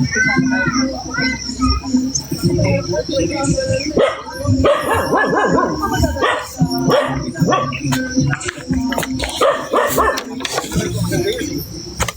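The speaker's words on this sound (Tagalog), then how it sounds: "Nahirapan di pansinin ng aso." A dog barks and yips repeatedly among children's voices and adult chatter, the barks coming close and loud in bursts across a busy, noisy scene.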